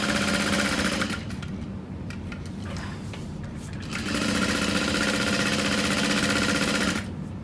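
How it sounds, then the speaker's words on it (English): Sewing machine running a long basting stitch along the side of a handbag's exterior V-shaped pocket, a steady loud whirring hum with a brief pause and change in pitch midway, close and alone. "And now we're gonna baste the pocket along the side."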